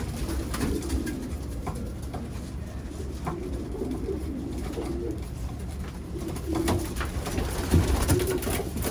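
Many pigeons coo continuously in a racing loft, a low overlapping chorus of calls nearby with scattered clicks and wing or foot noises, swelling slightly toward the end.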